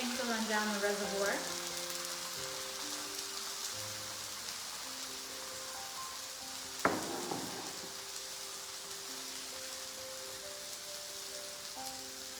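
Eggs sizzle steadily in a skillet with a reservoir, a continuous close hiss with a single sharp clink partway through and a faint tonal hum beneath.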